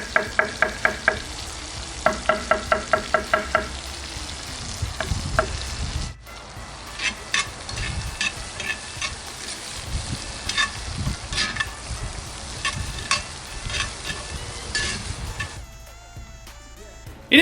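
A handful of mushrooms fry in the same steak pan, still holding the meat juices, while a Sauce Diane is made. The pan sizzles loudly and steadily, with quick rhythmic stirring clicks at the start, until it cuts off near the end.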